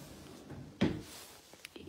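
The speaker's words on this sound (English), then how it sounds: "We have some drawers." A kitchen cabinet drawer in a drywall manufactured home sliding and bumping shut, one soft thump followed by a few faint light clicks, heard close in a quiet room.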